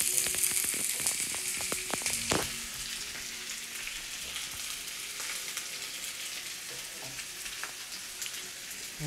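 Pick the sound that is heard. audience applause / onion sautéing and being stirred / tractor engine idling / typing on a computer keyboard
onion sautéing and being stirred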